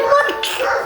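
A dog whimpers and yips in high, thin, wavering whines, fairly close and steady, with excited barks mixed in.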